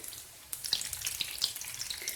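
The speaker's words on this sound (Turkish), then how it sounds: "Şimdi bu tarafı da kızarana kadar bekliyorum." Green lentil stuffed meatballs (içli köfte) fry in oil in a pan, giving a steady crackling sizzle with sharp pops scattered throughout, close up and with no voices.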